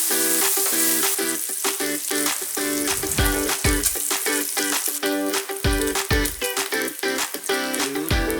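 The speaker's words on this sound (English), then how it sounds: "We're going to fry them until they're all nice and crisp" Bacon lardons fry in a pan for a loaded baked potato dip, a dense continuous sizzle and crackle with occasional spatters and stirring scrapes, steady and close throughout.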